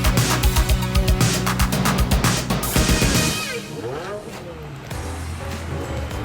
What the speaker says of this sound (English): And listen to those engines roar.